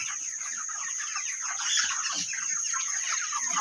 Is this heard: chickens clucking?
yes